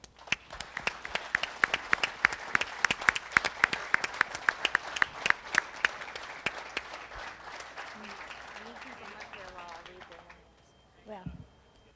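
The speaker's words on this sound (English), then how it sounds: "Let's give them a big round of applause." Crowd applause at a 2015 driver appreciation event, honoring two-million-mile club members joining Mrs. Taylor on stage; dense clapping with sharp individual claps fades out after about ten seconds, followed by a brief low sound.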